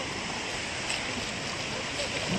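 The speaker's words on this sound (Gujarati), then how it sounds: "અત્યારે મોજાનો અવાજ એ તમને ખબર જ હશે" Sea waves wash onto the beach at Diu in a continuous, close, steady roar of surf that rises and falls slightly.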